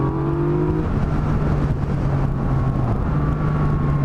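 A Yamaha MT-09 motorcycle engine in A riding mode with the throttle opened in second gear, giving a steady, close, loud drone that shifts slightly in pitch over four seconds, with no talking.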